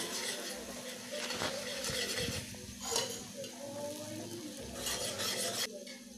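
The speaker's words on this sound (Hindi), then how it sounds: "तो उसको अच्छे से भून लेना है पहले।" A dry mixture of coconut, garlic and green chili is roasted in a pan, with soft sizzling and repeated scraping stir strokes, fairly quiet and close, with no talking.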